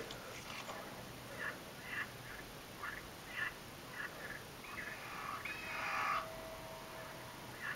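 Repeated short bird calls, about a dozen evenly spaced chirps with a brighter burst near the end, ring out over a steady hiss in the mobile survival hunting game Carnivores Survival.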